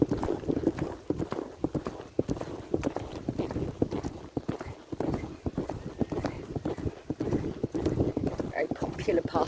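A horse walks along a bridleway over hilly countryside, its hooves sounding a steady, rhythmic clip-clop close by, with a rider talking over it and a light breeze in the background.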